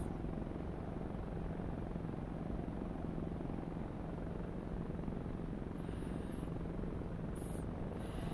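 Kiowa Warrior helicopter in the DCS flight simulator, flying through a turn: a continuous low rotor drone and engine hum, steady and even throughout with no talk.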